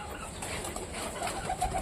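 Newly bought pigeon cooing softly in low, repeated murmurs, fairly close, with faint background hiss and no talking.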